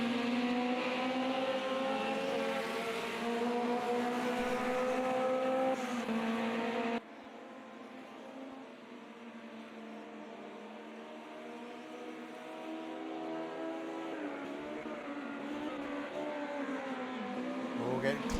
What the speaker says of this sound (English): I love hearing them come down that start-finish straight, and just as they off-throttle and start hitting the brakes and downshifting,